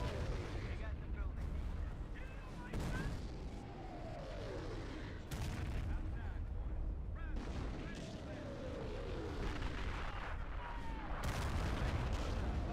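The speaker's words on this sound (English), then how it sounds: "Artillery inbound." Howitzer artillery in a video game fires and explodes repeatedly, booming blasts recurring every couple of seconds over dense rumbling battle noise, with whistling incoming shells between the impacts.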